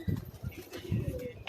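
A pigeon coos on a rooftop in Karachi, giving low, throaty pulses close by in two short bursts, with someone talking over them.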